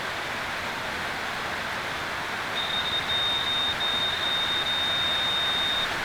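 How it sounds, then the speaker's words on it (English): A continuity tester emits one steady, thin beep lasting about three seconds while probing a pin on a DT1990 PRO headphone connector, set against a constant background hiss. "so it beeped"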